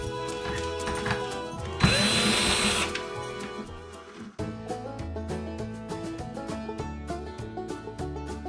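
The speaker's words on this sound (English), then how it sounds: "now that's all dry, and so I can take these screws out" A power drill whirs while backing screws out of a guitar, the motor whine running close at moderate volume, with a louder burst partway through, a short pause, then a steady spin resuming.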